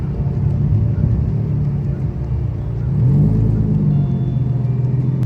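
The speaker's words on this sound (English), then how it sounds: "Just gonna slowly let out on the clutch. You'll feel it bite, the car will begin to creep." A manual car engine idling low and steady as the clutch is eased out to the bite point, the rumble deepening and the pitch dipping then recovering around the midpoint as the car begins creeping forward; close and loud, no talk.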